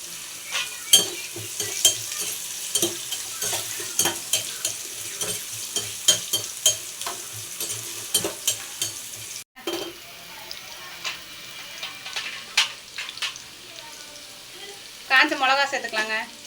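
Cumin seeds and garlic hitting hot oil for Tamil-style ginger thokku, a loud close crackling sizzle with stirring clatters that drop away partway, then a softer simmering hiss with a few utensil knocks.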